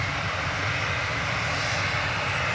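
Airliner jet engines roar steadily at Manchester Airport, a loud, broad and continuous rumble close by with no talking over it.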